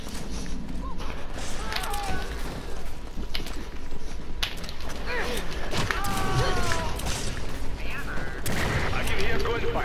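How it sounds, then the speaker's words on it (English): Resident Evil 5 versus match on PS4 with bursts of game gunfire and rapid shots amid running footsteps and in-game effects, with voices audible alongside. "I can hear gunfire."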